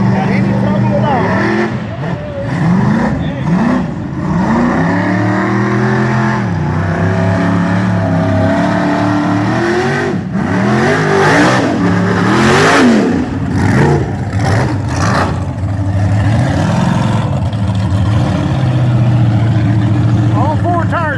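A mountain-motor race car climbs a hill in a Southern racing series event, its engine roaring and rising in pitch with repeated revving sweeps. Spectators talk over and between the engine noise.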